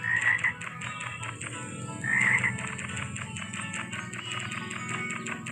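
Frogs croak repeatedly in the farming video game Hay Day, a steady run of rapid, close, ribbity calls with two louder bursts over a soft game backdrop, no talking.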